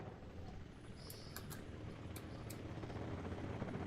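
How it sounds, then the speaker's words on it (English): A Bell helicopter flies in a dinosaur video game, a low, steady rotor rumble that slowly grows louder, with a few short high blips over it and no talk. "Oh, it's just a regular Bell helicopter."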